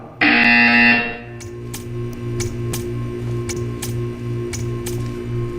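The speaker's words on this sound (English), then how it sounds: "You will hear a buzzer." A loud, harsh electronic buzzer in the video game Portal 2 blares for about a second, then a steady hum follows with regular soft clicks ticking in the background.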